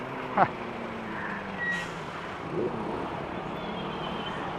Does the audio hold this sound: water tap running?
no